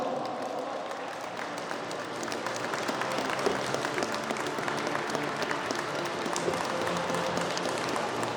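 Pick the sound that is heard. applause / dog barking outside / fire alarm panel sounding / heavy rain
applause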